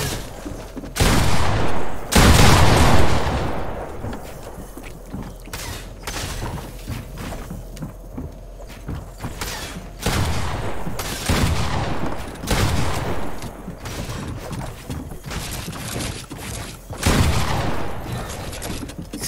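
Video game gunfire in repeated loud bursts, sharp shots and rattling volleys separated by brief lulls, with thumps and mechanical clatter underneath, no speech over them.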